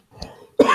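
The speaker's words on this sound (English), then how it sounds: "Sorry about that cough." A single sharp, loud cough bursts out close by, preceded by a faint breathy intake.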